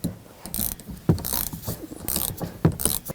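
Ratchet wrench tightening a rear shock absorber nut on a 2004-10 Toyota Sienna, with rapid bursts of close metallic clicking in several runs separated by brief pauses.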